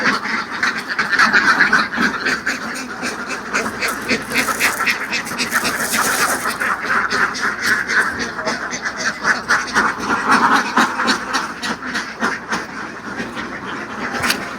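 A large flock of ducks quacks continuously on a duck farm in Laos, a dense, loud chorus of overlapping calls with no pauses.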